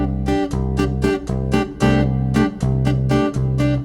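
A simple finger-tapped rhythm pattern on a Chapman Stick, with a repeating pulse of bright, percussive tapped notes over low bass tones at a steady beat, close and clear without any voice.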